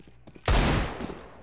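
A sudden burst of rapid gunfire from Counter-Strike: Global Offensive erupts after a short pause, loud and close, then fades into a rattling tail.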